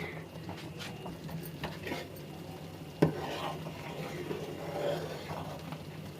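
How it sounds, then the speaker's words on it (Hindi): A thick white barfi mixture is worked in a small, overfilled pot on the stove, giving a steady, continuous scraping and stirring with a soft sizzle beneath and one sharper clank of the spoon against the metal. "मैं वही वाली बर्फ़ी जमा रही हूँ, वाइट वाली, इसमें बहुत मेहनत लगेगी घोटने में।"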